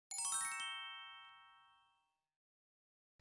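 A bright, bell-like KakaoTalk message notification chime rings once and fades smoothly over about two seconds, followed by near silence.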